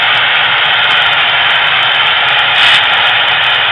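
The Athearn gas turbine locomotive model engine revs with a loud, steady turbine roar like a jet engine. The sound is continuous and close, swells slightly near the end and has no talk over it.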